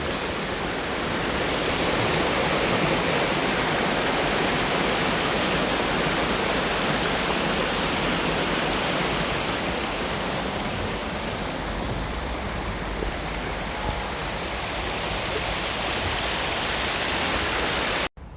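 Steady, loud broadband rush of a waterfall in Regent's Park, London, heard close and continuous for the whole stretch with no talk, cutting off abruptly at the very end.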